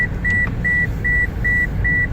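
Short electronic beeps repeat at an even pace, about twice a second, over a low engine-like rumble in the background.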